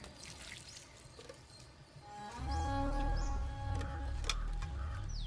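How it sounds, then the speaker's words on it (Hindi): Water is poured, starting as a light trickle and then becoming a heavier, steady gushing stream, with birds chirping faintly in the background. "चलो पानी डालो।"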